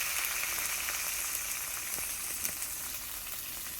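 Coriander powder fries in a pan with a steady, close sizzling hiss that stays even throughout, with a few faint crackles and no voices.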